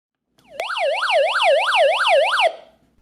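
A very loud electronic SOS siren from a RunningSnail emergency solar radio with crank charger wails up and down in rapid repeated sweeps for about two seconds, close and alone, then cuts off abruptly.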